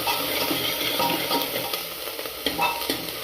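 Onions caramelizing in a pan for a chicken dish, stirred with a spoon: a steady sizzle broken by several scraping stirs and light utensil knocks, close and moderately loud with no speech.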